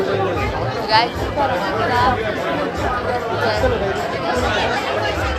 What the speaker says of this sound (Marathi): तू बघू शकता किती गर्दी आहे, खूप गर्दी आहे